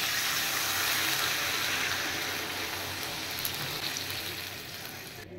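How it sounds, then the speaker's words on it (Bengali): Water pours steadily into a pan of jackfruit and paneer curry, a continuous close splashing gush lasting several seconds with no speech. "এবার আমি জল দিয়ে দিচ্ছি"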